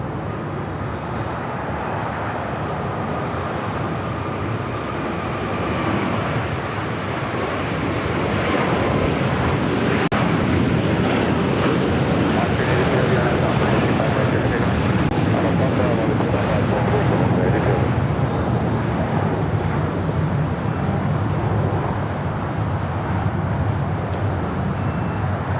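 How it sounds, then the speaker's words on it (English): An Airbus A350-1000 jet rolls down runway 25 right at LAX, its engines roaring loud and steady throughout and swelling slightly midway, with broadband rumble and no voices. "Big Q, A350 1000, now rolling down to 25 right."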